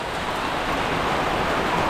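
Very heavy rain pouring down during a flood, a dense continuous hiss without breaks, fairly loud and close, no voices.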